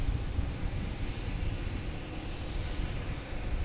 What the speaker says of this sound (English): We have American Airlines and a Boeing 777 rolled out there.